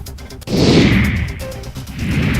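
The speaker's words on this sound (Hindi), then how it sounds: "कार्यकर्ताओं ने आतिशबाजी की और एक दूसरे को खिलाई मिठाइयां।" Celebration fireworks set off by party workers at a BJP state office: a loud, sustained roar of bangs and crackling rises suddenly and carries on close by.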